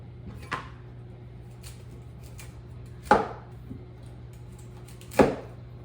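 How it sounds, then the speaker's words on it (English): A knife chops the tops off a head of broccoli during meal prep, three sharp separate cuts against a board spaced about two to three seconds apart, close and clear over a quiet kitchen hum. "I just go right around it and just chop off all the tops like that."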